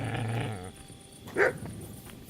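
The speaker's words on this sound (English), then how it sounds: "Hello, doggy." Dog in the video game Kingdom Come Deliverance II letting out a low growl that fades, followed by a single short bark, close and moderately loud with no talk.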